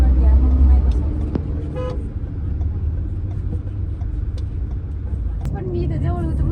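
Busy road traffic rumbles steadily while car horns toot in a few short, sharp blasts. People talk over the vehicle noise.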